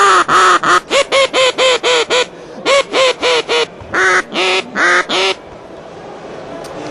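A hunting duck call mimics a hen duck with a rapid series of loud, nasal quacks in quick rhythmic bursts, several runs of repeated calls close up, then stopping and leaving quiet.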